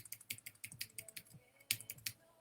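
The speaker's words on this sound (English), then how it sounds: "by using the cursor keys." Cursor keys on a computer keyboard are pressed in a quick, irregular series of soft clicks and taps, close up and quiet, with no one talking.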